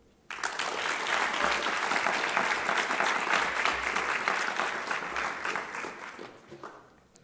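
A conference audience applauds the organizers, a dense burst of clapping starting abruptly, holding steady for several seconds and then tapering off.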